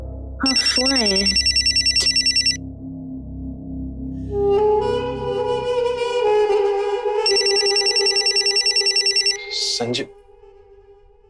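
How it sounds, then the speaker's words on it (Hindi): A telephone bell rings loudly in repeated bursts, with a ringtone melody and a voice speaking briefly at the start. "फोन आया। हाँ, फोन आया है।"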